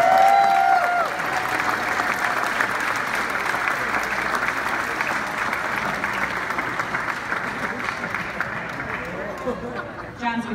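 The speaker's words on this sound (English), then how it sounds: "So one more round of applause." A crowd applauds after a dance performance, loud, dense clapping from many people that starts strong and slowly tapers, with a few cheers and murmurs mixed in.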